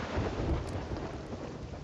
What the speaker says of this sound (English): Did our ship just get struck by lightning?